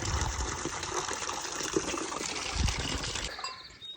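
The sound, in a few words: warm electrolyte water being poured for cow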